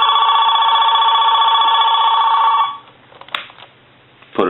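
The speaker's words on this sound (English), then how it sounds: "one final check is we want to ring the phone." AT&T 530 corded telephone, freshly repaired, rings with a loud, steady electromechanical bell for about two and a half seconds, then stops, leaving faint handling clicks and a short clatter at the end.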